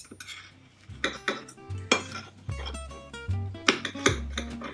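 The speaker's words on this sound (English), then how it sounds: "gonna grab my knife and fork, and I'm just gonna cut right into it." Knife and fork cutting into a gluten-free stuffed red pepper on a plate, sharp metallic clinks and scrapes of cutlery against the dish in an irregular series, close and clear.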